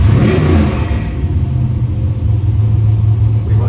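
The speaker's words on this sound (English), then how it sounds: "the starter's going. I'm gonna come back down to our target idle." A 388 cubic inch stroker V8 from a 1973 Corvette runs on a dyno, a loud, close, low engine rumble that settles into a steady idle.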